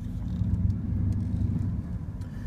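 A lifted 2000 Chevy 2500 4x4 single-cab truck gives off a steady, close engine rumble with a deep low drone that swells slightly as it pulls away.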